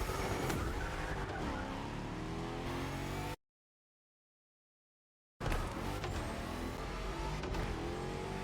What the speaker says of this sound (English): If you get the right timing with the boost, you could get some pretty good drifts in this car